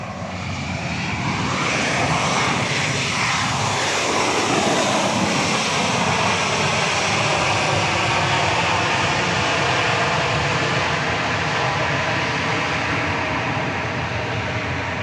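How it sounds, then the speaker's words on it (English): A Southwest Boeing 737 MAX 8 jet arriving at Dallas Love Field at night, a loud, steady engine roar that sustains for the whole stretch, close by, with a shifting whine sweeping through the noise as it passes. "You'd think a MAX 8 with all of its advanced technology would have a quieter arrival than that."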